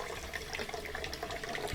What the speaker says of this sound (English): I'm going to open up this tube and let any water that's left in the machine drain out.